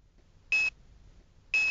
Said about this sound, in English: All the while, the beep, like that of a heart rate monitor,